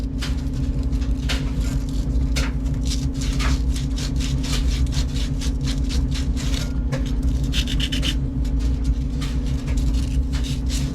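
Copper pipe being sanded clean before soldering a water spigot, a continuous close rasping scrub with rhythmic strokes over a steady low background hum, loud and with no talking.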